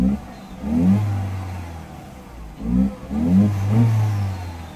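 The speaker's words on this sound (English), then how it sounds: "Definitely I can hear the whistling from the turbo." A cold Peugeot 3008 1.6 turbo petrol engine with a low-power limp-mode fault revs in two bursts, rising and falling close by, with a faint turbo whistle over the engine note.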